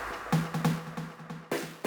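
Percussion one-shots programmed on an Elektron Digitakt play alone, a busy pattern of short, punchy hits with a low tonal thump under sharp clicks, repeating in quick irregular rhythm at moderate loudness.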